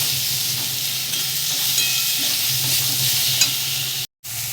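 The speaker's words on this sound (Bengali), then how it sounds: "মশলাগুলো দিয়ে আমি একটু ভালো করে কষিয়ে নেব" Spices with coriander powder fry in a pan with a dense, close crackling sizzle, stirred continuously with a spatula, followed by a brief silent gap near the end.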